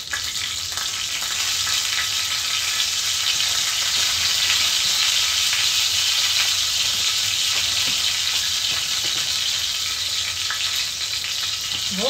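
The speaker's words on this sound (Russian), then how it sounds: "С этой стороны пусть немножко поджарится" Chebureki made with hot-water dough sizzle steadily as they fry in a pan, a continuous close crackle of hot oil with no one speaking.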